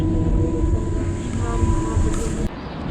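Steady rumbling and rattling of a small tram in motion in Eskişehir, with a constant mechanical hum and a faint high whine throughout.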